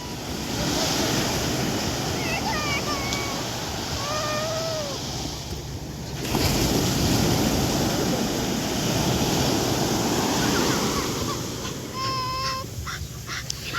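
Ocean waves wash continuously onto Rancho Beach in Bicol, a steady loud surf roar with a swell midway, while high-pitched pet cries and distant voices sound over it.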